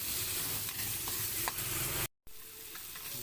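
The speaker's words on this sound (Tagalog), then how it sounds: "pwede na natin ilagay yung hipon. Gisa lang ng konti." Shrimp sizzling and being stirred in a pan, a soft steady frying hiss with scraping stirs, cut by a brief gap of silence before the sizzle resumes.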